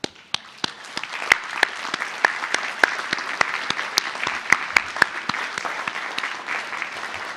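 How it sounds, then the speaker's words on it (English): Graduates at a university graduation ceremony in Singapore applaud their families: sharp, distinct claps ring out singly over a softer bed of scattered clapping, building into a steady round. "give them a round of applause for their support for us"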